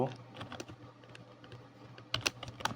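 Fingers tap on a computer keyboard in a run of irregular, close key clicks, quieter through the middle and rising into a louder flurry of strokes near the end.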